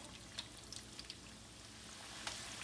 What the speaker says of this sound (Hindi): हाई हीट पे वन मिनट इनको फ्राई कर लिया